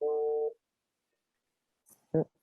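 A phone's notification tone sounds during an online info session, a single steady electronic tone about half a second long, followed after a pause by a brief voice.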